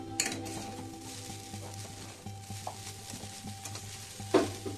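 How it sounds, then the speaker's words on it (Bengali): A spoon stirs vermicelli pulao with grated coconut in a pan, making quiet scraping and soft clinks over a low steady kitchen hum, with one louder knock near the end. "আমি দিয়ে দিচ্ছি এখন একটু একটু ভালো করে মিলিয়ে নেব"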